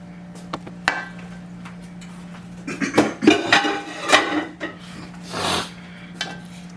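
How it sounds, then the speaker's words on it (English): Porkchop dressing being stirred together with sauteed vegetables in a pot, giving irregular scraping, clinking and rubbing of a utensil against cookware, with a steady low hum underneath and no talking. "Now I'm going to be mixing all this together so you'll be able to see it."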